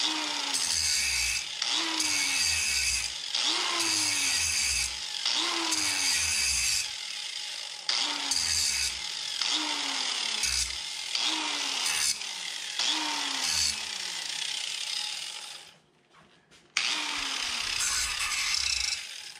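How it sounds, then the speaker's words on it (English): Repeated rhythmic scraping strokes deburr a freshly cut edge in a guitar-making workshop, steady rasping passes about once a second with a brief pause near the end, close and fairly loud without speech. "Just trying to take the burr off the edge here."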